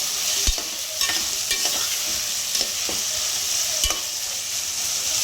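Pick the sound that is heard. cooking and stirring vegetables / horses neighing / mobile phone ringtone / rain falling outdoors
cooking and stirring vegetables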